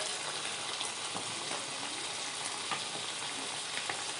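Cut papaya and potato pieces hiss in hot spiced oil in a rustic home kitchen, producing an even, continuous sizzle with light crackles and no talking.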